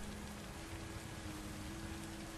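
Steady rain falls in a video game world, a continuous even hiss of drops that holds at the same moderate level throughout, with no one speaking.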